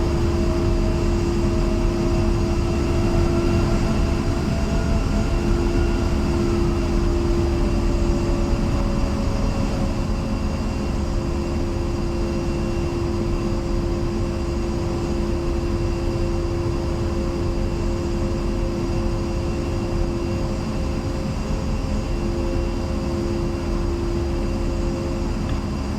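A-10C jet in a flight simulator game spools its twin engines for takeoff, a steady loud whine and roar held throughout with a tone sliding down early on, no talking.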